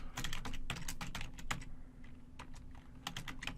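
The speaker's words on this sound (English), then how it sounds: "type the module's load command" Rapid bursts of keystrokes on a computer keyboard, clustered clicks with short pauses between groups, close and fairly quiet over a steady low hum.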